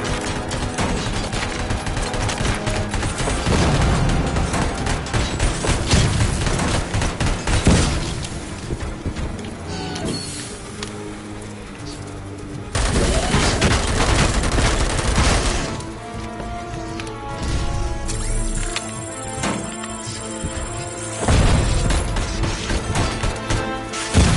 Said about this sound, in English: Whoa, he's got rockets!